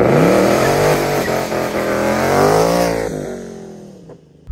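A Ford Mustang Mach 1 revs hard during a burnout, the loud engine note rising and falling close by before dropping off sharply near the end.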